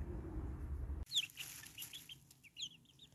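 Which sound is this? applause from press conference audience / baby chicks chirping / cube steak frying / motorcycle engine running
baby chicks chirping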